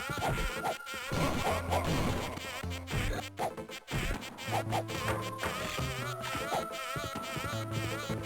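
Buzzing insects drone in a Shinobi game on the Game Boy Advance, a loud, constant buzz mixed with game music and sharp hit sounds.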